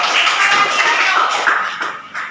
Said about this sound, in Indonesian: tepuk tangan dulu untuk Mirko.